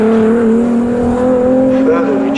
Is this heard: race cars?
yes